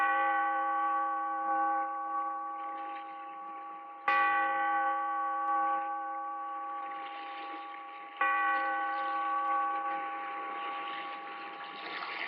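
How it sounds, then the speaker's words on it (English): Three slow, resonant strokes of a tolling bell in a radio drama, each ringing out with long, humming overtones that fade before the next strike, evenly spaced and alone. "Bellkeeper, toll the bell"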